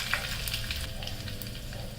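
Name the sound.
tempering chutney: curry leaves and mustard seeds sizzling in hot oil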